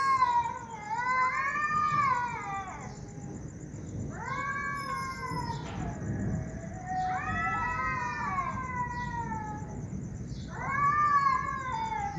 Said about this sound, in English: rather crying of the cats.